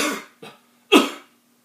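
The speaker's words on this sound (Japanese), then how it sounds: "咳をしますよね。" Two or three dry coughs in a row, close and fairly loud, each a short harsh burst with brief quiet gaps between, the last one the strongest.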